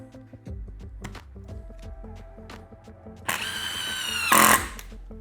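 A cordless power driver on speed 1 sinks a 2.5-inch SPAC screw into wood, a whirring motor buzz that rises into a louder, strained drive near the end before stopping.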